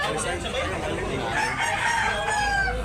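A rooster crows nearby at a chicken market in Tabunok, Talisay, Cebu, its long call rising and falling over a busy background of other birds and faint voices.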